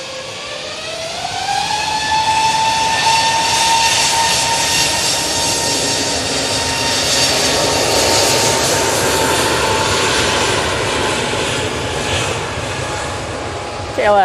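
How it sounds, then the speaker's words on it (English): KLM A321neo jet rolling for takeoff toward Amsterdam Schiphol, its engines spooling up in a rising whine that settles into a loud, sustained roar before easing off, with voices talking over it. "KLM A321 Neo now on the roll to Amsterdam Schiphol."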